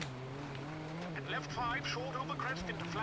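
Rally car engine in WRC 8 on a Rally Wales stage, a steady droning motor with revving gear changes and rough bumps, heard faintly under a player's talk.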